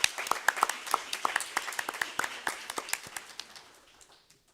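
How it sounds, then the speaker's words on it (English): An audience at a law school international negotiation competition's closing ceremony claps, with crisp individual claps at first, then a thinning patter that fades away over a few seconds. "Can we have another round of applause for him, please?"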